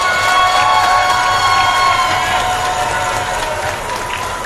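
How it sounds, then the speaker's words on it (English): Crowd cheering and shouting in the stands at a women's para ice hockey world championship game between Team World and Canada, a loud sustained roar with whoops that eases slightly toward the end. "You can hear the support in the stands for Team World here"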